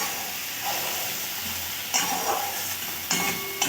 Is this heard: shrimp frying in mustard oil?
yes